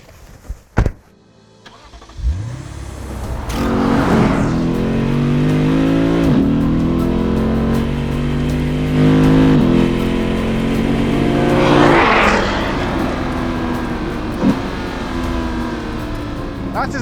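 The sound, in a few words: Lexus RC F naturally aspirated 5-litre V8 engine revving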